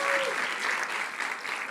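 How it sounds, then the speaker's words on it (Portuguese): Church congregation applauding to welcome visitors during a service in Lisbon, a short burst of steady, even clapping from a crowd with a faint tone running underneath. "vamos dar uma salva de palmas de boas-vindas aos nossos visitantes."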